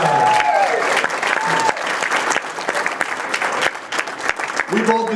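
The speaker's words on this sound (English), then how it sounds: "Give a round of applause." Comedy club audience at the Hartford Funny Bone bursts into loud, sustained applause with scattered cheers and whoops, a dense clapping wash that holds steady throughout while a voice speaks over it.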